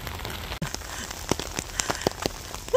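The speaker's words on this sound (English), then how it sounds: "A lot of rain." Rain pattering on surfaces along a coastal trail past a small town in South Korea, with scattered distinct drop hits over a soft steady hiss.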